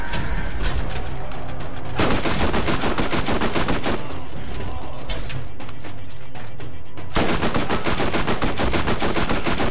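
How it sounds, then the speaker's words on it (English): Submachine gun fire in the Borderlands video game, loud continuous rapid bursts with brief pauses between them, dense and sustained almost throughout, with mechanical clatter mixed in. "I'll just defeat you with one clip of my submachine gun."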